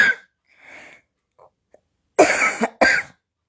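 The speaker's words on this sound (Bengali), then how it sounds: "কাশিটা শুরু হলো।" A few coughs, a faint breathy one at the start and two loud, harsh bursts close together near the end, separated by near silence.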